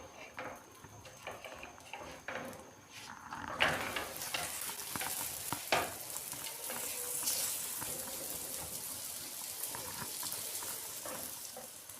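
A paratha cooks with oil on a hot pan, a soft background hiss swelling into steady close sizzling, with occasional scraping and tapping of a spatula.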